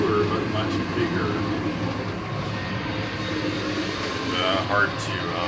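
An Amtrak Lakeshore Limited passenger train rolls along with a steady low rumble and hiss heard from inside the car, while a person speaks over it.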